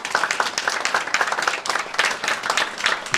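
Short burst of audience clapping at a press conference during a One Summer Chicago site visit, a lively cluster of hand claps lasting a few seconds with a moderately close, uneven rhythm.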